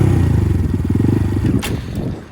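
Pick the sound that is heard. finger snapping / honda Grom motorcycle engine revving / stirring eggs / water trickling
honda Grom motorcycle engine revving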